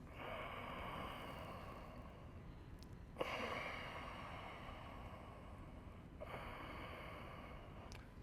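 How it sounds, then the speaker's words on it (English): Relaxed ocean breath drawn from the back of the throat, close to a soft snore: a steady, close, breathy rushing that runs continuously, broken by two short pauses into three long breaths, with no talking. "I'm going to call this a relaxed ocean breath."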